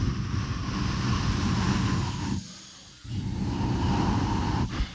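A beatbox show crowd breathes out together to imitate a whooshing wind noise, a loud broadband rush that briefly drops out mid-way and then resumes.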